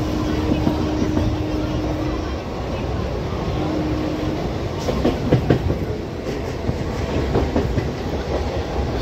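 A Patna local train on the East Central Railway in Bihar rumbles along with steady rolling wheel noise and a few clattering bursts, heard from inside the moving carriage.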